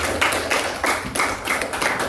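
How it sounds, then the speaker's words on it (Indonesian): Classroom applause for a student group after a presentation, a short burst of clapping from a small group, close and moderately loud, with rhythmic waves of claps and no talking. "Silakan tepuk tangan dong untuk kelompok"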